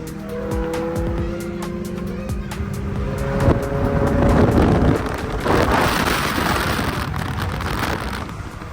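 Two Honda Civics accelerate hard side by side in a street race. Loud, continuous engine roar climbs through the gears, with tire squeal and heavy wind buffeting the microphone.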